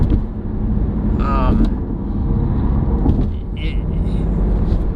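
A BMW i8 hybrid sports car accelerates with a steady, rising engine rumble and a faint whine, heard from inside while people talk over it.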